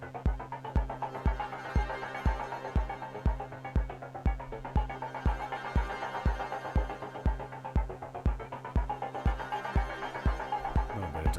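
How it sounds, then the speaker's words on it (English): A synth audio track on a Deluge plays a steady pulsing pattern of low thumps about twice a second under a sustained tonal drone, with a soft reverb wash filling the space between beats, moderately quiet and without voices. "So let's add a little bit of reverb."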